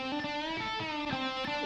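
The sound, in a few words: electric guitar solo with room reverb effect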